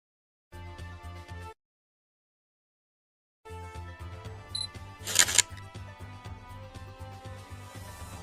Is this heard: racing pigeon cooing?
no